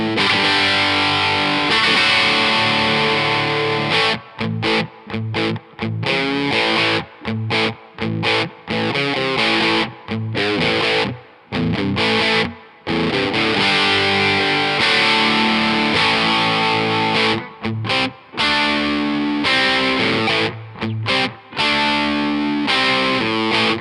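Electric guitar on the bridge pickup runs through a Kemper amp profile with a booster in front, giving a loud, driven, distorted tone. It plays a dense riff with brief choppy stops, alone and without talk.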